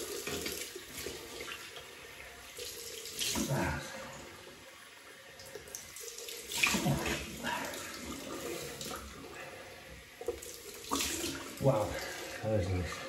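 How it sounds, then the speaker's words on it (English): Cold water runs steadily from a tap during a shaving rinse, a continuous splashing hiss that swells as hands and face move under it, close and fairly loud, with brief talk. "Cold water rinse."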